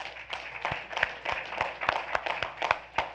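Applause from the audience at a school board of education business meeting: a small crowd claps in an uneven, moderately quiet patter for a few seconds, with no talking.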